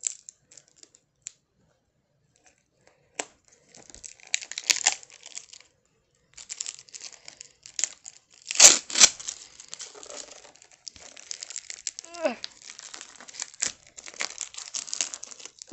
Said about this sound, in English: So we're just going to kind of carefully pick a spot to try to open this